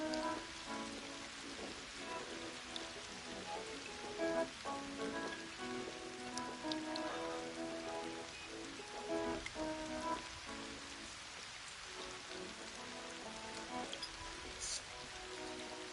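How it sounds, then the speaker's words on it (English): Rain falls steadily on a pond outdoors, a constant soft hiss and patter of drops on water, fairly faint, with no voices. "That's just a whole lot more rain."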